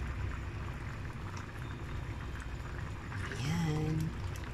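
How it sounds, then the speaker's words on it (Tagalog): Mung beans boil in a covered pot, giving a steady, low bubbling hiss throughout with a brief higher tone rising near the end. "kumukulo na yung aking munggo"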